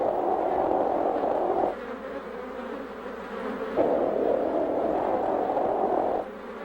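Honeybees buzz in a steady, loud, close drone that rises and dips in intensity over several seconds, heard alone.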